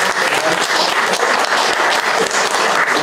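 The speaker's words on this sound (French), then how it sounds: "On va continuer d'applaudir" An audience at a lecture applauds loudly and continuously, a thick even roar of many hands clapping with no speech over it.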